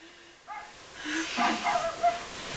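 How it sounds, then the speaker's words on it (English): A dog in the video game Rule of Rose gives a few short barks and yips, faint and a little distant, while a person talks and laughs over the top. "Barking dog."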